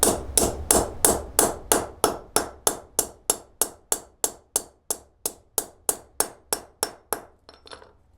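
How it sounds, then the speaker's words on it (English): Hammer blows join wooden pieces for a model wing, about twenty sharp strikes in a steady, fairly quick rhythm, close and loud, easing off to lighter taps at the end. "hammer it down, hammer it together. Making sure to hammer on both sides."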